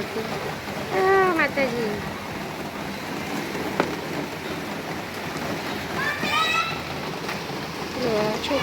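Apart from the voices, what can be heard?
heavy rain falling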